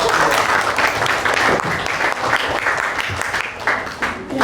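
Classmates applaud a student group in a classroom, a dense burst of clapping that starts loud and gradually thins out over a few seconds.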